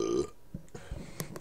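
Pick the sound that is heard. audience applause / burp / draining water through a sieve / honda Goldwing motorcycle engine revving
burp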